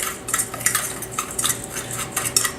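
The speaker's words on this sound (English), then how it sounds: "So we're going to go ahead and just kind of mash this up, mix it all together" A pulled pork dry rub being mashed and mixed together in a bowl, with quick clinking and scraping strokes of a utensil in short bursts, close up with a faint low hum underneath.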